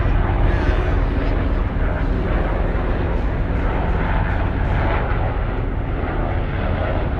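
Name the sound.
Army helicopters flying over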